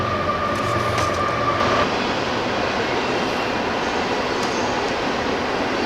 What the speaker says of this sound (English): And now for the rumbling of the train.